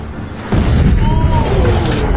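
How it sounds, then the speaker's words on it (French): A smoke bomb pyrotechnic goes off with a sudden loud burst, followed by a sustained roaring hiss and crackle that continues for a couple of seconds. "c'est une bombe fumigène, une explosion pyrotechnique"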